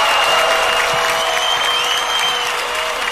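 A large audience applauds and cheers at the Filmfare awards, producing a dense, loud, continuous wash of clapping with scattered whoops and whistles through the whole stretch.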